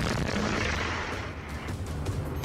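A rocket strike detonates at an oil depot in the Russia-Ukraine war, a dense, loud roaring rumble that fills the whole stretch without a break and carries no voices.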